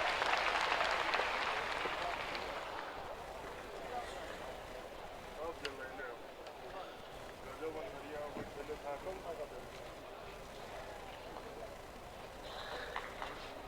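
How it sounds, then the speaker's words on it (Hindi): Audience at a public inauguration ceremony for a Ganga water supply scheme in Bodh Gaya clapping in welcome, loudest at the start then tapering to scattered claps with voices beneath. "जोरदार तालियों से हम सब स्वागत करें इनका।"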